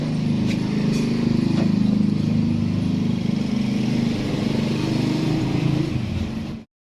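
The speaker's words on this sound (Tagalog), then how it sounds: "Grinder. Grinder." A grinder runs steadily and loud for about seven seconds, a continuous motor drone with harmonic bands, cutting off abruptly at the end, while working on the clogged barrel of an Armscor airgun.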